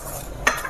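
Roasted capsicum going into a pan for a vegetable kootu, heard as a single quick stir-and-scrape against the pan over a faint background sizzle.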